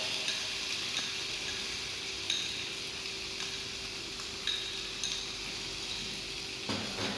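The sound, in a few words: tomato sauce being stirred and cooked in a pan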